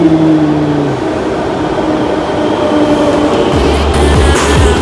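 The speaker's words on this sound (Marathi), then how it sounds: "सो गाईज फायनली आमची मेट्रो आली आहे आणि आता आम्ही मेट्रोनी जाणार आहे घरी" A metro train pulls into a station with a loud, steady rumble and rolling rail noise, a brief falling tone, and some clanking near the end, close and continuous throughout.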